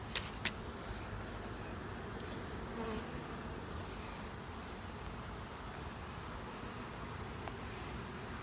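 A honeybee swarm drones in a steady, close buzz while being caught and shaken from newer comb, with a couple of sharp clicks near the start and no talking.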